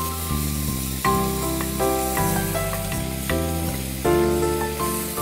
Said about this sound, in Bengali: এটাকে আমরা লাল করা পর্যন্ত ভাজছি নাকি ক্যারামেলাইজ?